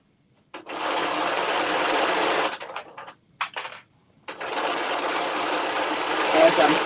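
A sewing machine stitching a dress from a vintage Butterick pattern whirs steadily in two long runs with a brief stuttering pause between them, close and even.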